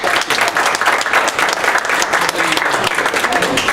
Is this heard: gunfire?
no